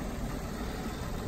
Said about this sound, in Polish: Normalnie silnik chodzi.